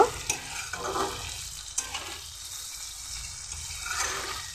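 Chicken curry with papaya, potato, tomato and salt sizzles softly in a pan, broken by light scraping and clicking as a utensil stirs it. Nobody speaks.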